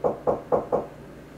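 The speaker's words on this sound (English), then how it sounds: "Behold, I stand at the door and knock" Four firm knocks on a door in an even rhythm, close and clear against a quiet background.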